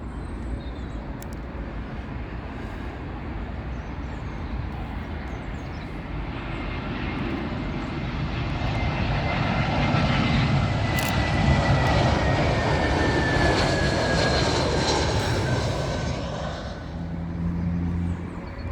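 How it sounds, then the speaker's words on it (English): A British Airways Airbus A320 arriving from Glasgow lands on runway 27L at Heathrow, its jet engine rumble building to a loud near pass midway, then easing off as it fades away. "another A320 for British Airways, and this one has come from Glasgow"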